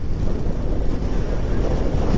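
Heavy wind rushes into the microphone while riding a motorcycle across a long bridge on a trip from Baler, Aurora toward Tuguegarao, as a constant low, rumbling roar with no clear voices.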